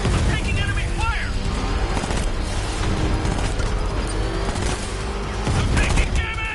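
Gunfire crackles through Batman: Arkham Knight combat, a dense, continuous barrage of shots with scattered booms and mechanical clatter, loud and steady throughout, with in-game voices mixed in.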